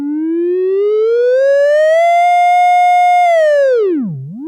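A self-oscillating high-pass filter on a Nekyia Circuits Root Locus module sings a pure, loud tone that slowly glides upward, holds steady, then swoops down sharply and back up near the end, with no voices.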